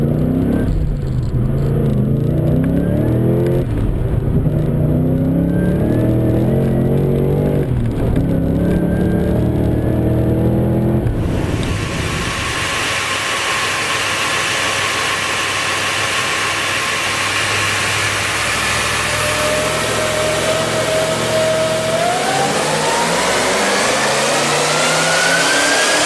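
A VE 416 LS3 V8 fitted with a Harrop FDFI 2300 supercharger cranks and fires, then settles into a loud, steady idle with a rising whine as it revs near the end, very close and alone.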